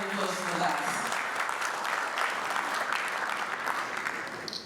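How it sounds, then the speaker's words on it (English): Crowd at a bank's product launch in Nigeria applauds in a steady, fairly distant wash of clapping that continues for several seconds and thins toward the end, with a voice briefly audible at the start. "I think we deserve a round of applause for that"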